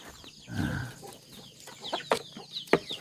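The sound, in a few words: chickens clucking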